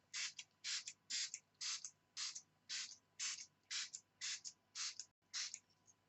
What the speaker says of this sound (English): I would just like to spray it around myself just to acknowledge her energy with us.